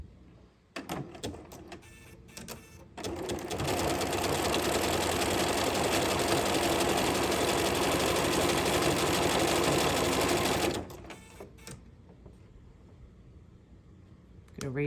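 A sewing machine fitted with an overlock foot runs a steady satin stitch around the edge of a piece of work, a continuous fast mechanical whir lasting about eight seconds, with short start-stop bursts before and after.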